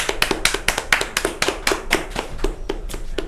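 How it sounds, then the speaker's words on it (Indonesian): Lively applause from a crowd at a boxing event as a fighter, Gaga Muhammad, is introduced, with dense, rapid claps going on steadily with no talk over them. "langsung aja tepuk tangan yang meriah untuk Gaga Muhammad"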